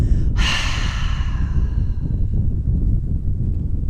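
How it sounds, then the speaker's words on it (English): A single forceful exhale during yoga breathing: a sharp breathy rush of air that starts strong and trails off over a few seconds, close to the microphone, with steady low background noise. "breathing in deeply from the belly to the ribs to the chest, and a forceful exhale out"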